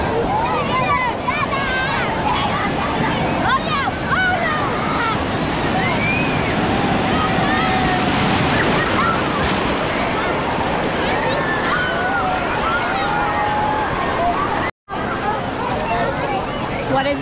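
Big waves breaking in the Typhoon Lagoon wave pool at a water park, a continuous loud wash of surf and crowd noise with wind buffeting the microphone, briefly cut out near the end.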